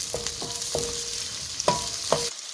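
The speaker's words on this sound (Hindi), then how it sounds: "प्याज को हल्का सा हमें सौते करना है" Sliced onion sautéing in a pan with oil: a soft, continuous sizzle under a few light clinks of a spoon stirring against the pan, close and moderate in level.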